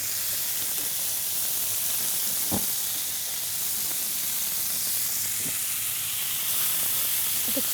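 Chicken and vegetables for chicken masala tikka frying in a pan on a stove over lowered heat, a steady broadband sizzle and hiss running throughout with a few brief clinks and utensil taps, no talking.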